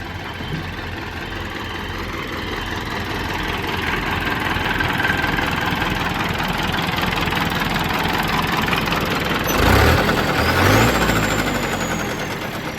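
A farm tractor engine idles at low revs, a steady close rumble with a faint knocking beat running throughout, briefly rising in a louder burst near the end before settling back.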